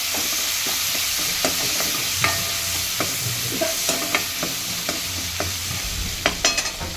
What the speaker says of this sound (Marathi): आता आपण हा एक टोमॅटो कापून घेतला आहे तो टोमॅटो तो पण तसाच परतून घेऊया